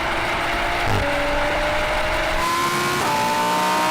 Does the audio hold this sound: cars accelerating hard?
yes